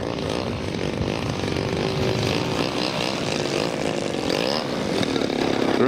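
A 30cc gas-engine RC sport aerobatic model airplane on a slow landing approach, its small two-stroke engine droning steadily and fairly loud with a slight rise in pitch toward the end.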